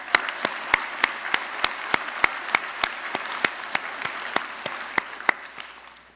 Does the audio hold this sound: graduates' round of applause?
yes